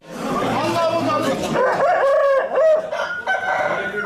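Fighting roosters crow loudly at close range, several strained calls overlapping, with clucking and a busy background murmur.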